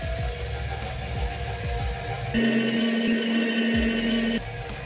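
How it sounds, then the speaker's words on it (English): An electric mixer beats cookie batter made with tapioca flour, running as a continuous close whir that steps up to a louder, higher-pitched drone midway and then drops back again, with no voices. "I'll give it a quick mix for about a minute."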